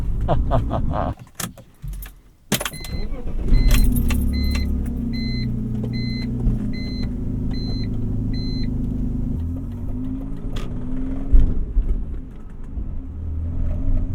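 A BMW E46 car engine idles roughly with a throttle stumble, a loud close rumble following key jangling and clunks at the start, plus repeated chime beeps and small revs.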